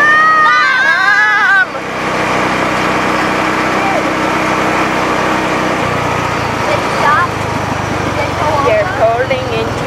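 An illegally ridden Gator utility vehicle's engine drones loudly and steadily throughout, close by, under almost continuous chatter from several riders.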